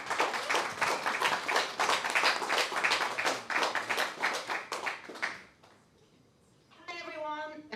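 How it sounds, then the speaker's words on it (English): Audience applause at a film festival programme launch held in a VR venue, a dense steady patter of clapping lasting about five seconds before fading out, followed by a brief voice. "Please give a round of applause."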